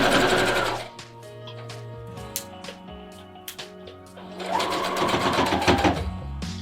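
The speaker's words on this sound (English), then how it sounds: "I hold on to it when I pull the pin out, and then I go ahead and sew right over it" A sewing machine stitching over bias tape straps on a homemade fabric face mask, with fast mechanical runs at the start and end and a quieter stretch of clicks and handling noises between.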